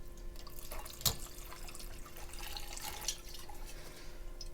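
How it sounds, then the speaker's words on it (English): Two ounces of tequila poured for a margarita, a light trickling liquid splash with a brief drip accent, faint and close against a quiet room. "We're going to start with 2 ounces of tequila."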